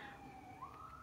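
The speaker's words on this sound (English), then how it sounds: "you guys, excuse the siren" A wailing emergency siren sweeps steadily up and down in pitch, faint and distant, heard alone without voices.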